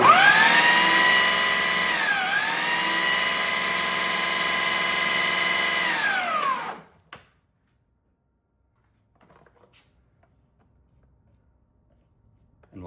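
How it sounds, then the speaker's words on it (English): A Ninja blender food processor whirs loudly as it pulses tzatziki, the motor dipping briefly in pitch midway before cutting out, followed by near silence and a few faint clicks. "So I usually just pulse it until it looks combined"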